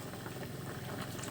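A pot of squash simmering in coconut milk bubbles at a steady rolling boil, a faint, continuous soft burbling heard alone throughout.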